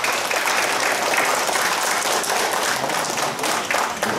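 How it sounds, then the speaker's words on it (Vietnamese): Crowd applause for a prime minister at a Vietnamese political gathering, a dense, steady burst of clapping lasting a few seconds, loud and close. "Xin thưa quý vị, cho Thủ tướng Đặng Quân tràng pháo tay nữa"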